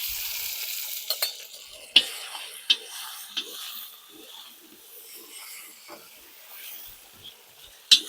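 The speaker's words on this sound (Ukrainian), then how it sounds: "І зразу даємо копчене сало." Smoked pork lard crackles in a cauldron for Hungarian-style bograch, with a soft high hiss broken by scattered scrapes and clinks of stirring, close and fairly quiet.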